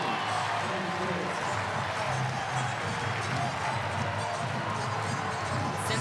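Crowd noise fills a volleyball arena during a women's NCAA regional final between Louisville and Pittsburgh: a steady, dense roar of cheering spectators that holds level throughout, with faint commentary beneath.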